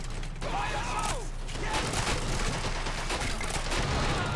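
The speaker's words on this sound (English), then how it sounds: "Grenades in our trenches." Explosions and gunfire crackle continuously in a Men of War Assault Squad battle, with grenades landing near trenches and bursts of shots over a dense, rumbling background at moderate level.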